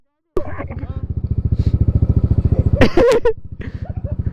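A Honda Dash 110 project motorcycle strains on an uphill climb, its single-cylinder engine putting out a steady rapid chugging throb that falters and sputters near the end. Close and loud, with voices talking over it.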